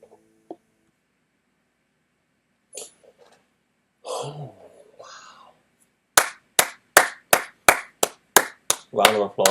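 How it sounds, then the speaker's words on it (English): A short run of sharp, evenly spaced hand claps, about a dozen quick beats speeding up toward the end, close and dry, following a few scattered throat sounds and brief speech. "Round of applause."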